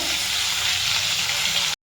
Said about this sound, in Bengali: মাছগুলো দেওয়াতে ছ্যাদ করে উঠলো কড়াইতে